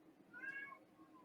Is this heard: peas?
no